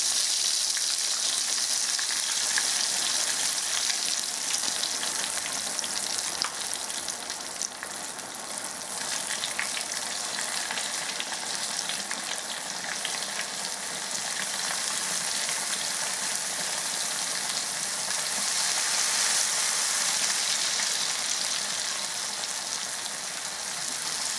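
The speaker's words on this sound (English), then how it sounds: "If you hear it sizzling louder, then don't lower it all the way." Crackling, steady sizzle of chicken frying in hot oil at about 180 to 200 degrees, loud and close, swelling slightly at times and running on without any voices.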